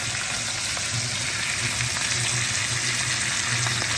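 Steak sears in butter in a hot pan, a steady loud sizzle and crackle running throughout with no one talking.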